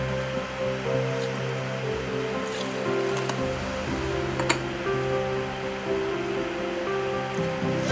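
Running tap water rinsing ingredients while cooking ginger fried pork in a home kitchen, a steady close splashing flow with a few light clinks.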